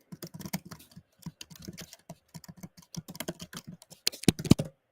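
Typing on a computer keyboard, close and fairly loud, with irregular bursts of clicks and a few heavier key strikes near the end; no talking.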